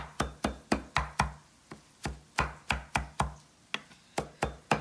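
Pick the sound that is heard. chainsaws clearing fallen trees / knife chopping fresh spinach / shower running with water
knife chopping fresh spinach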